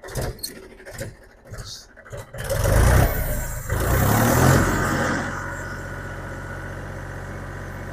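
Clicks and a brief starter whir, then the diesel engine of a 2013 Mahindra 265 DI tractor catches and revs up before settling into a steady, loud low idle.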